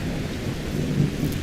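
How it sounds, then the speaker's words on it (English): Booming thunder rumbles over steady pouring rain in Skyrim with the Climates of Tamriel weather mod, a low rolling storm roar that swells near the middle. "Climates of Tamriel echoes its booming storm noises into my ears."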